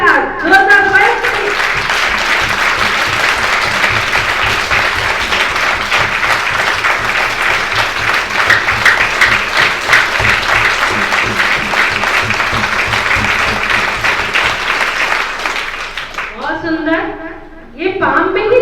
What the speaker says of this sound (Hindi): पहले अपने आप को चार्ज करिए जोरदार तालियों के साथ, जोरदार बस।